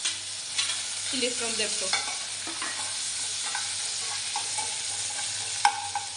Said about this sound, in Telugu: ఆయిల్ వేసింది, తర్వాత మెంతికూర వేసింది, తర్వాత చిల్లీస్ వేసింది, తర్వాత ఆనియన్స్ వేస్తుంది